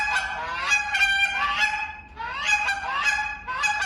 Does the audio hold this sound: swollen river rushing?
no